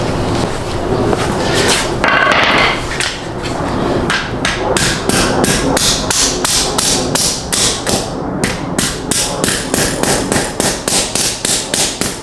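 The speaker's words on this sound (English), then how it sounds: "Probably have to hammer this thing down." Loud metal-on-metal hammer blows beat bent body metal on a Hyperblue Subaru STI, starting as dense rapid pounding and settling into a steady run of sharp, evenly spaced strikes close by.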